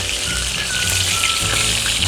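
Quail meat fries in a pan over medium-high heat, giving a steady, dense sizzle and crackle that runs without a break.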